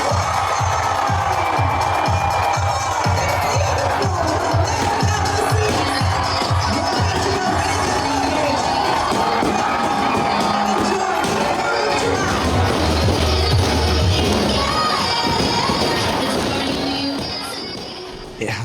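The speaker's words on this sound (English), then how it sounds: "the whole crowd started counting down to the long-awaited balloon drop" Crowd cheering and shouting at a midnight balloon drop during a party aboard the cruise ship Legend of the Seas, a loud, dense sustained roar of many voices with whoops that fades slightly at the end.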